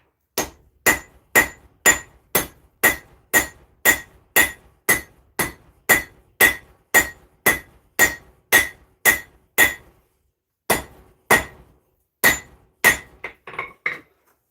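Steady, evenly spaced hammer blows ring on metal while forging a small Zangetsu sword blade from Bleach, about two dozen sharp, bright strikes close up, a brief pause, then a few more quicker, lighter taps at the end.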